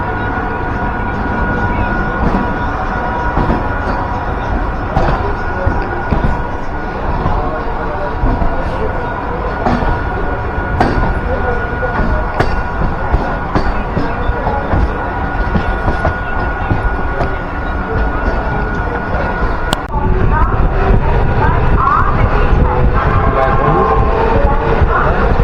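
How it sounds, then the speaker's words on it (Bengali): A Naihati local train runs along the rails with a steady rumbling roar and rhythmic clickety-clack of wheels, heard from inside the carriage, with faint chatter now and then. "মানে নৈহাটি ট্রেনটা পেয়ে গেলাম"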